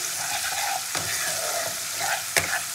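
Sugar sizzling in hot oil in a pan while preparing a katla fish masala curry, a continuous bright frying hiss with a few soft stirring scrapes, close up and without speech.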